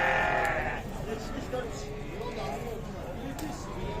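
Sheep and lambs bleat repeatedly at a livestock market while people talk nearby over a busy background murmur.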